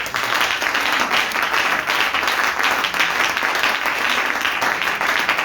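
A church congregation applauds steadily and loudly through the whole stretch, a dense unbroken wash of many hands clapping together at a New Year's Eve crossover service, with no speech over it.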